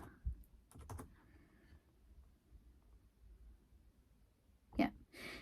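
Someone types on a computer keyboard in short, quiet bursts of clicks separated by pauses, with soft breathing and small vocal noises in between.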